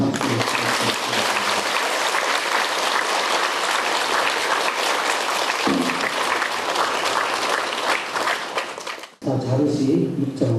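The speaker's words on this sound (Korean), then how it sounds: "큰 스님을 박수로 큰 박수로 부탁드립니다" Crowd applause welcoming a Buddhist monk to a lecture hall, a sustained dense clapping that stays loud for most of the stretch before cutting off, with a voice speaking near the end.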